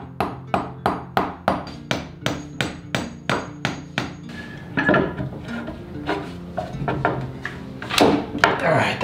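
Hammer strikes nails into a plaster wall, about a dozen sharp, evenly spaced blows close by, followed by scraping and handling noises with a few more knocks.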